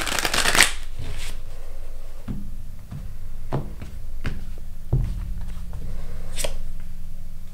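Close, crisp riffles and soft taps of a deck of playing cards being shuffled and squared, in several short bursts separated by pauses over a low background hum.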